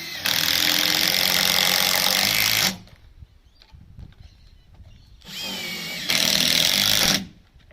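A cordless drill whirs loudly up close as it drives a 125mm batten screw into timber on a cabin kit, in two long bursts separated by a few seconds of quiet handling noise.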